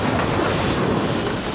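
A train in a film scene gives a loud, continuous rumble with faint high wheel squeals drifting over it, and no voices.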